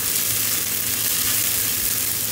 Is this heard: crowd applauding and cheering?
no